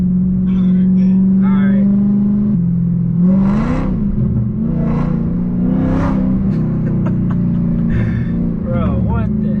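Dodge Charger Hellcat heard from inside while accelerating toward top speed, a loud steady engine drone with rising whine and gear-shift swells throughout, with someone talking over it.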